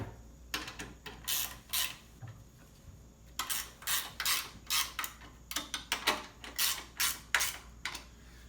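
A torque wrench being tightened on a motor before shipping, giving a run of sharp ratcheting clicks in short bursts, close and fairly loud, with brief pauses between groups.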